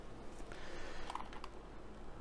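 Keys clatter on a Razer Huntsman Tournament Edition TKL gaming keyboard with red linear optical switches, a quick close run of light clicks over a steady background hum.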